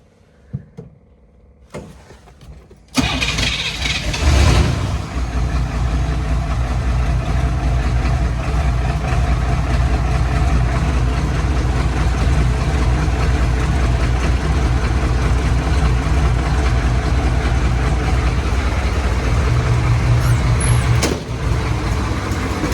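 A Chevy Blazer's diesel engine cranks after a few faint clicks, fires and settles into a loud, steady idle up close, with a brief sharp noise near the end.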